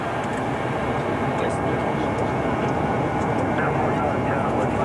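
Saudi Arabian Airlines airliner on landing approach in the mid-1980s, with steady, loud engine drone and broadband roar filling the cabin continuously while crew voices talk over it.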